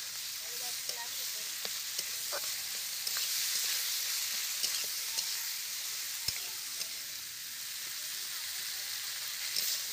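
Spices with salt and turmeric frying for a country chicken curry over a clay stove. A steady, dense sizzle runs throughout, broken by small scraping ticks as the mixture is stirred.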